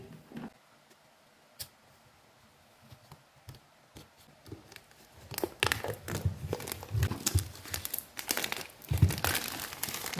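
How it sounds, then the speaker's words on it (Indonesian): Plastic and cardboard packaging of a ZD Toys Spider-Man action figure crinkles and crackles close by, sparse handling noises at first, then dense rustling and tearing as the box is opened. "sekarang saatnya kita unboxing action figure ini"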